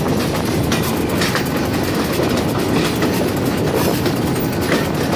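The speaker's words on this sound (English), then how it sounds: "Makes for a nice long train here." A ten-car passenger train, the North Bend Flyer on an Ohio excursion line, rolls past close by, a loud continuous rumble with rhythmic wheel clatter over rail joints and occasional metallic squeals.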